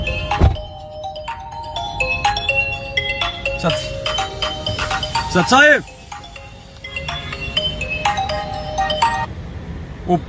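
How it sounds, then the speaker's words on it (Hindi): A melodic phone ringtone plays repeatedly over a voice speaking briefly, with a sliding warble and a thump partway through. "फोन आ रहा है, उठाओ"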